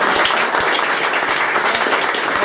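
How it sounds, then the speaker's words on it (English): Steady applause from an audience at an Ottawa gathering, continuous dense clapping at moderate loudness throughout with no pause. "a round of applause, please"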